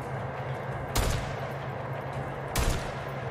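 Gunfire in the Days Gone video game: two sharp, loud shots about a second and a half apart, ringing over a steady low rumble of background noise.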